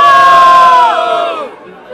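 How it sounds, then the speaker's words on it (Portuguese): A crowd at a Brazilian street rap battle in São Gonçalo roars and shouts loudly in one sustained, swelling burst that tapers off, with a few voices standing out. "Só mão pro alto e barulho, GTA!"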